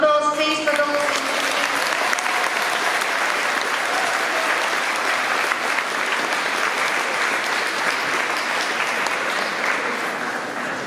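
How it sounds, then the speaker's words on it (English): A crowd at a school certification ceremony breaks into loud, continuous applause, a thick wash of clapping that holds strong throughout and tapers only slightly at the close. "So a round of applause please for those."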